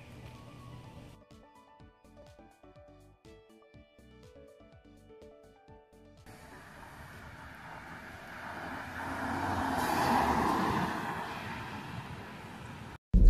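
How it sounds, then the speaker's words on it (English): A 2014 BMW 328i sedan driving, its engine and road noise swelling into a broad, steady rush that peaks and then cuts off, preceded by a stretch of background music. "now I'm going to cut to a few videos of me driving around"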